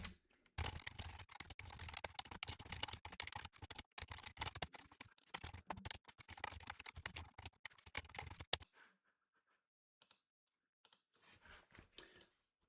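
Rapid, steady keystrokes on a computer keyboard while writing Rust code, dense clicking for about eight seconds, then a few sparse taps after a pause.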